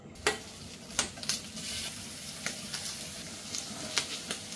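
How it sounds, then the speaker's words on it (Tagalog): Pork cheek cooks on a home stove with a continuous low sizzle, broken by scattered sharp pops and clicks at irregular intervals, heard close up. "Ihawin na natin yung pisngi."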